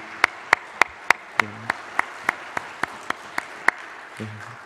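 Sharp, evenly spaced claps ring out one after another, about a dozen in a steady rhythm, with a faint voice murmuring near the end, during a church worship service.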